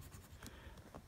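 Medium Parker fountain pen nib with Parker Quink Blue Black ink scratching and gliding across paper in short, faint strokes at close range, with soft rhythmic pen-on-paper texture and no talking.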